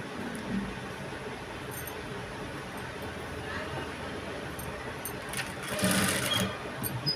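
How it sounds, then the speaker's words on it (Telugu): Sewing machine stitching piping on a blouse neck, a steady close mechanical whir running continuously with slight swells, a voice speaking faintly underneath. "మనము నెక్కు కుట్టుకునేటప్పుడు నిదానంగా అయినా సరే నీట్ ఫినిషింగ్ అనేది వచ్చేలా చూసుకోవాలి"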